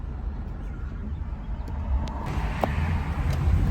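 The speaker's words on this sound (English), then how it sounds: "Oh, so loud, the traffic. So much cars around me" Road traffic rumbles at a traffic light in the rain, a low continuous engine drone from nearby cars that grows louder toward the end, with scattered faint clicks and no talk.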